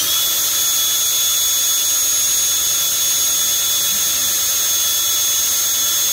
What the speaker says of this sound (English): get your drill and driver, put it on your highest setting clockwise, and spin it until you hear it make a different sound